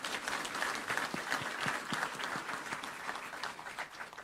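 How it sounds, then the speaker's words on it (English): Audience applause fills the hall at an advocates admission ceremony for the Kenya Judiciary, a steady dense clapping that holds at an even level throughout. "Please clap for her."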